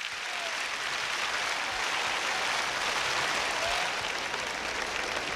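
A large congregation applauds in a stadium, a dense, even wash of clapping that holds steady throughout at a moderate distance with no speech over it.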